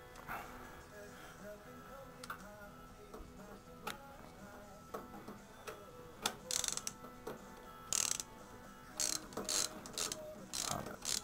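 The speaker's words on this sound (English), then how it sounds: "now you want to get your 5/8 socket" Socket wrench ratcheting a spark plug out of a V-twin 950 engine, heard as close, quiet mechanical clicks and clacks in irregular bursts, with a few sharper metallic ticks and no talking.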